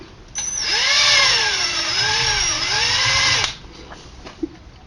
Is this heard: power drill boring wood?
yes